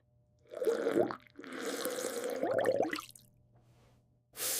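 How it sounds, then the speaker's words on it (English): Water splashing and swishing as a mouth is rinsed, two bursts of wet sloshing and dripping close up in a quiet room, followed by a short gush of running water. "I rinse my mouth."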